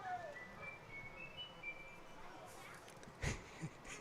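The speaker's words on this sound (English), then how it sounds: "Was that the Old Spice whistle?" A faint, distant whistled tune echoing the Old Spice jingle drifts over crowd ambience at a high school baseball game, with a sliding note early on and a brief thump near the end.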